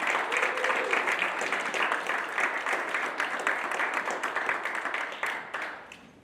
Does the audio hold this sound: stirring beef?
no